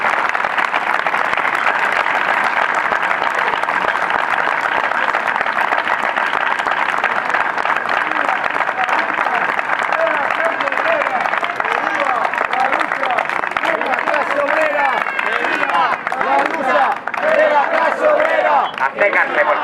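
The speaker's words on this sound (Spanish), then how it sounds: "Un aplauso sobre todo para esta gente que se lo ha hecho" Sustained audience applause from an outdoor crowd at a community route event in Avilés, dense continuous clapping for nearly twenty seconds with cheering and chatter mixed in.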